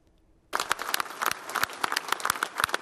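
Mourners applaud at a funeral in Palermo, sharp hand claps bursting in after a brief quiet moment and continuing as steady, close applause.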